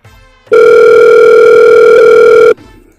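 A telephone places a call to another party in a Hindi comedy skit: a loud, steady electronic line tone holds unbroken for about two seconds, then cuts off abruptly, with no voices over it.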